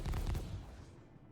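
An explosion in the space game Star Citizen: a deep, rumbling boom close by that fades away over about a second, with no voices over it.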